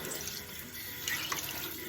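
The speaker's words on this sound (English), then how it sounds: "The water is running clear" Tap water runs steadily into a sink while a textured velvet makeup sponge is rinsed, a continuous close hiss and splash with no talking.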